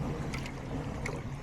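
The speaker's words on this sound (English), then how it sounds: "you hear all the waves smacking up against this island over here" Lake water washing and slapping against a small island's shore on a mountain lake, heard from a kayak as a steady, close wash with light wind noise and no talking.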